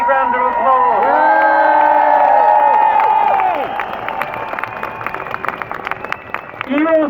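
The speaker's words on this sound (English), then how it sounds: "Give her a big round of applause." Crowd at an outdoor protest rally in Trafalgar Square, London, bursts into loud applause and cheering with whoops, mixed with shouts, then fades to scattered clapping and voices.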